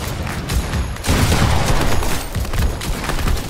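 Rocket launcher fire and explosions in Fortnite, a dense barrage of booming blasts and rumbling impacts running continuously and loud throughout.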